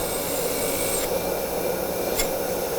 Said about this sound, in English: I've been hitting that with just a little wire brush as best I can